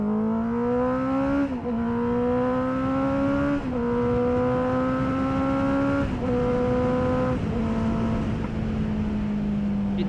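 A Honda CB650R motorcycle with an Akrapovic exhaust revs loud and close, its tone climbing steadily in pitch over several pulls and dropping briefly between gear changes before rising again.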